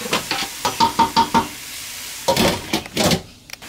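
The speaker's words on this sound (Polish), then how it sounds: "I teraz chcemy, żeby nasze warzywa dusiły się przez następne 5 minut." Chopped leek stewing in olive oil in a pot over lowered heat for a vegan potato and leek soup: a close, soft sizzle with several rhythmic stirring knocks, a short pause, then more stirring and frying hiss.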